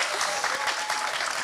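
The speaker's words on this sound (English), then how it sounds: "I think she deserves a round of applause" An audience at a climate justice and human rights talk breaks into a short round of applause, a dense, even clapping close by.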